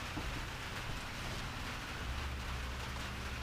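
Steady rain falls outside an RV parked off-grid, a continuous, even hiss of drops with a low rumbling undertone, moderately quiet and unbroken throughout, with no voices.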